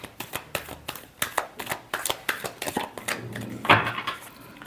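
Tarot cards being shuffled by hand: a quick run of crisp riffling clicks and flutters, close and fairly loud, with a sharper snap near the end.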